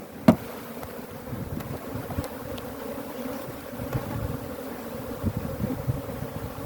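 Bees from a defensive hive drone in a low, continuous swarm around an open hive box, with a sharp knock at the start and faint handling noises, close by and without voices.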